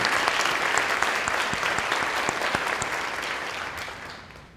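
A banquet audience at a 4-H Congress leadership event applauds eight finalists, a dense, steady wash of many hands clapping that stays loud throughout and tapers slightly toward the end.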